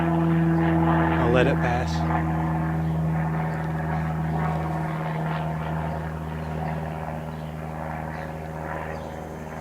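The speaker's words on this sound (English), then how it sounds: "And there's a plane." A propeller airplane passing overhead near an airport, a steady droning hum that holds for several seconds and fades gradually, with someone speaking briefly over it outdoors.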